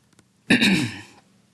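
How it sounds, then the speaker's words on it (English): A single harsh throat-clearing cough, close and fairly loud, lasting under a second before quiet returns. "if you guys been hearing me coughing like for the last few seconds"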